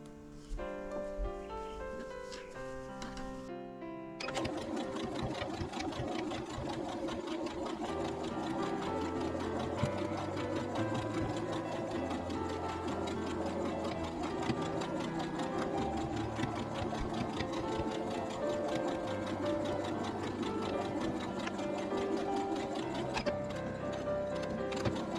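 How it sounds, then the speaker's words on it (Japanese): A sewing machine runs in a long, steady burst of fast, even stitching as it joins a seam on a patchwork hexagon tote bag, after a brief quieter moment at the start. "1センチ入ったところを縫い合わせていきます。"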